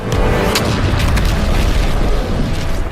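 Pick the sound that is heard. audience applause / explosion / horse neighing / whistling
explosion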